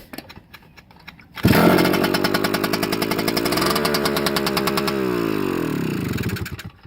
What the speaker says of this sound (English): It's a first kick bike, so it starts right up.